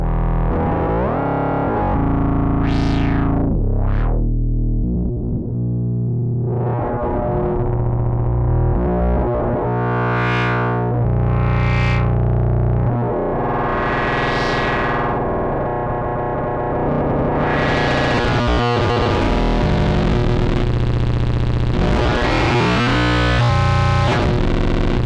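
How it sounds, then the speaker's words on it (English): An Instruō tràigh synth module flips its ratio and throws out unstable, glitchy distortion: dense, effected tones with sweeping bursts and ratcheting textures that play continuously and loud, with no voice. "We get these unstable distortions when it flips ratio."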